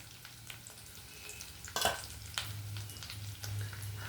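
Sesame seeds dry-roast in a pan, a soft, quiet sizzle with occasional louder scrapes and rattles from stirring.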